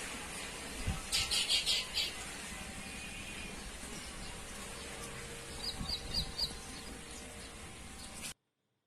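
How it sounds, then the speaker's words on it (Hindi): Small birds chirp outdoors near flowers gathered for a Janmashtami puja, with a dense burst of twittering early on and a shorter run of quick repeated chirps later, over steady background noise. "चिड़ियाँ चहचहाती हुई बहुत सुंदर लगती हैं, बहुत प्यारी लगती हैं"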